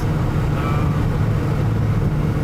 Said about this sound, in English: the exhaust isn't that bad. It's way quieter than before, but it's still pretty loud